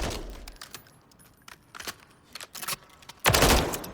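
Rapid XM8 rifle bursts fired as fast as possible in Call of Duty Modern Warfare III, with irregular clusters of sharp shots building to a loud, dense volley near the end.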